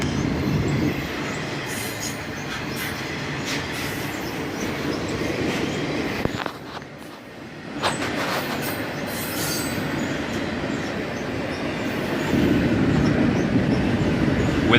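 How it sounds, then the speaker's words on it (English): A long CSX autorack freight train rolls steadily past at moderate speed, a loud continuous rumble with wheel squeal and clatter, dipping briefly partway through before building again. "this autorack train just seemed to go on and on."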